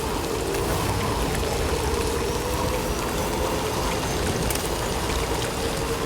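Timefall rain falls steadily in the Death Stranding 2 video game, an even, unbroken hiss of rainfall spattering on surfaces at a constant moderate level with no talking.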